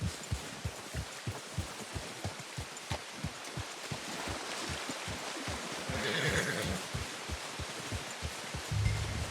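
A horse in the Red Dead Redemption 2 video game blows and snorts, with a steady rhythm of low thuds like hoofbeats running throughout and a brief louder burst near the middle, all fairly quiet.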